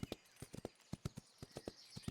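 Horse hooves clip-clop in a quick, steady rhythm, the crisp synthetic footfalls of a game horse, fairly quiet with no talking.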